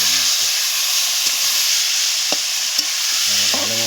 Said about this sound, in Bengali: ভালো মতো চিকেনটাকে কষাতে হবে।